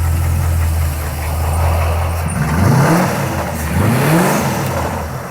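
Pontiac Firebird race car engine idling low, then revving up and down twice in the pits, with a metallic rattle running through the loud, close engine note.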